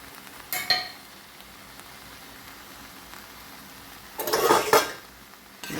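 A spoon clatters and scrapes in a pan of cauliflower sabji with garam masala over a soft sizzle, with one clack early on and a louder burst of stirring near the end.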